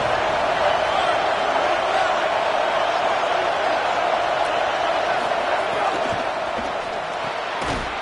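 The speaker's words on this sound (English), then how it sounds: "This crowd ready to make its presence known." Stadium crowd at a football game, a loud continuous roar filling the whole stretch, with a brief sharper burst near the end.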